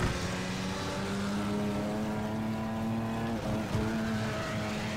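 Race cars roaring through a track in Flatout 4 Total Insanity, a steady loud engine drone with a sustained rising pitch, briefly dipping as the car shifts, continuous and close throughout.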